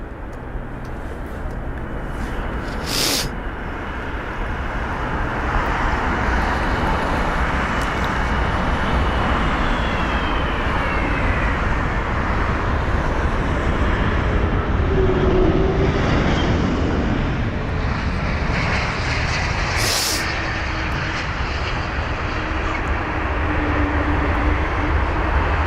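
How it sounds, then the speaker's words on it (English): A United Boeing 777-200ER lands on runway 27 right at London Heathrow. A broad, steady jet roar holds for the whole stretch, loud and continuous, with a few brief clicks near the start. "And so here is the United 777-200 ER, runway 27 right."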